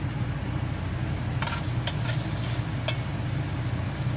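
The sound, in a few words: stirring frying food seasoned with garlic powder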